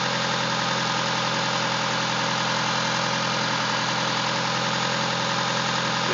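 A DSM car engine idles steadily with a suspected rod bearing knock, giving a continuous, fairly loud mechanical drone with no voices.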